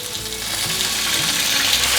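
Cabbage and carrots frying in olive oil in a pan just after a splash of water, a loud, steady, close sizzle with soft stirring and no voices.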